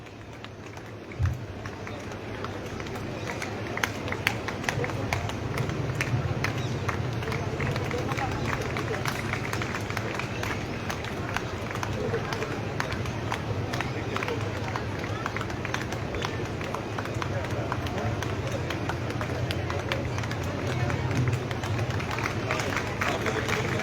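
Steady, sustained applause from the audience at a girls' college convocation ceremony, dense clapping holding at an even level throughout with a background crowd murmur.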